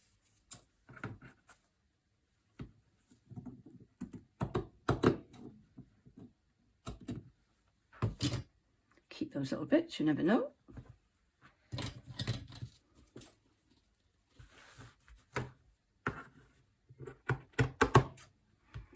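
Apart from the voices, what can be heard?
trimming fabric cover with scissors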